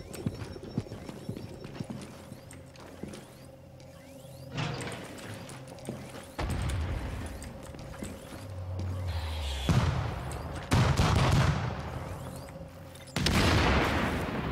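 Sniper rifle shots ring out in the video game The Division, heard as several sharp, booming cracks spaced across the stretch amid other in-game noise, fairly faint overall.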